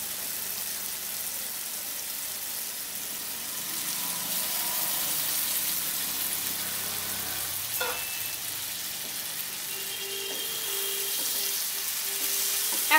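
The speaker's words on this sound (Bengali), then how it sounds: "এখন এগুলোকে মশলার সাথে 2 মিনিট মতো কষাতে থাকবো।" Fried potato and kohlrabi are stirred into spice paste in hot oil, making a continuous even sizzle with faint occasional scrapes, close and steady throughout.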